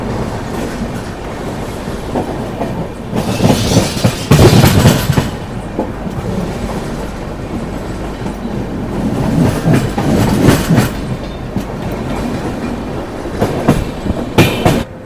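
A passenger train from Yesvanthpur to Coimbatore pulls out of Salem Junction, loud and close, with rhythmic clickety-clack over rail joints, bursts of louder clatter and occasional wheel squeal over a continuous rumble.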